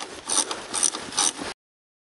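A hand ratchet unscrews bolts on a Renault Clio 2 RS, three quick bursts of close clicking, then silence.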